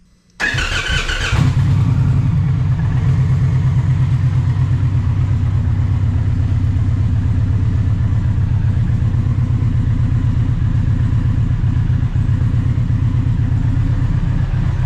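An Indian Challenger motorcycle fitted with a Freedom Performance exhaust cranks briefly and fires up, then settles into a loud, deep, steady idle rumble close by.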